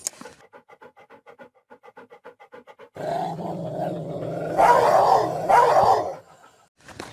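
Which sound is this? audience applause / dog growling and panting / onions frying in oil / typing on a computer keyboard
dog growling and panting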